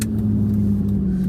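A car's engine hums steadily while driving, picked up near the window of the moving car, a constant mid-pitched drone with no talking.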